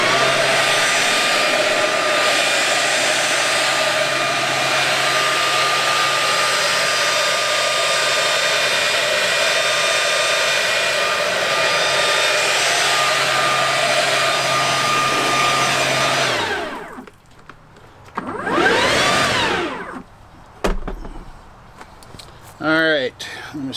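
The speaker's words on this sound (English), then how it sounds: "I use the Stihl BGA85 as my reference blower" A Stihl BGA85 battery leaf blower runs with a steady, loud high-pitched whine for about sixteen seconds, then winds down. Brief swooshes and handling noises follow.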